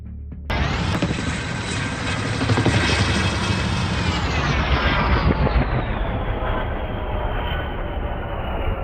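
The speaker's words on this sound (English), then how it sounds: "Was the helicopter just passing by or chasing the object?" A helicopter flies close overhead, its engine and rotor roar starting abruptly and staying loud and steady with a rising whine before easing slightly, no voices present.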